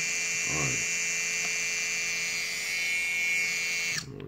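A drone motor driven by a Spedix GS30 ESC that is acting up spins with a steady high-pitched electric whine and hum, close and continuous, cutting off abruptly just before the end.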